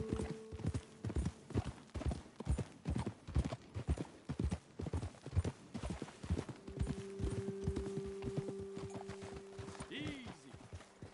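Horse hooves clop and gallop in steady rhythm in Red Dead Redemption II, loud and close, slowing near the end, with a voice speaking over them.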